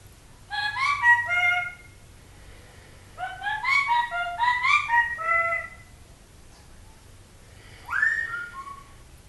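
A pet bird gives bursts of clear, bright whistled calls in three groups, rising and falling notes close to the microphone, with quiet pauses between and a low hum underneath.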